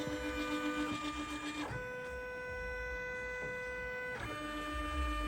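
An embroidery machine whirs and hums as it runs its trace function, a steady motorized whine with tonal shifts when the hoop changes direction, close and alone.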